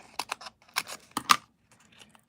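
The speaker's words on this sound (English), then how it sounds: "I'm using up a sheet that I've got, so we'll trim some of these edge pieces." Edge pieces are trimmed off a sheet of cardstock in quick, crisp clicky cuts that come in two short clusters, close and fairly loud, followed by a faint tail, with no voice.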